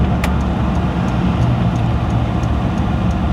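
Restomod 1962 Chevrolet Impala station wagon with power brakes and slotted, drilled rotors, heard from inside while driving: loud, close, continuous engine and road rumble with steady tire noise.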